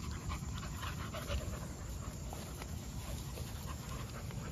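Several puppies pant close by in quick, rapid, breathy bursts that keep going without stopping, fairly loud and with no talking over them.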